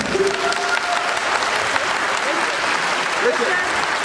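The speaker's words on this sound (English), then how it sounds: "if we could just give her a round of applause for organizing this event" Keynote audience applauding Ashley, the event organizer, a full, continuous round of clapping with a few brief voices and cheers mixed in.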